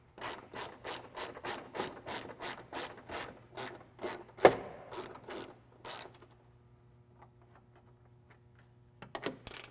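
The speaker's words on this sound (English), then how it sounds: "we are going to start by removing the two 10mm bolts that are holding it on right here" Ratcheting wrench backs out two 10mm bolts holding the upper grille on a Toyota Tacoma, a steady run of evenly spaced clicks for several seconds, then a sharp knock and near quiet with faint taps.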